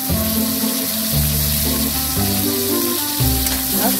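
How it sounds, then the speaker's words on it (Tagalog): Tomatoes with onions sautéing in a pan, a steady loud sizzle and frying hiss with shifting tones as the mixture is stirred, continuous throughout with no talk. "At igisayan natin silang lahat."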